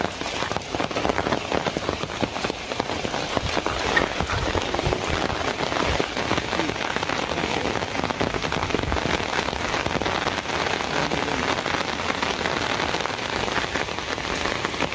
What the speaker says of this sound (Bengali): বৃষ্টির ভিতরে আসছি